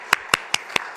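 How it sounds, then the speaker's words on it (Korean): Congregation in a church service clapping together in praise: five sharp, evenly spaced claps in steady rhythm, clear and fairly close, with no talking over them. "다 같이 하나님께 영광의 박수 올려드리겠습니다."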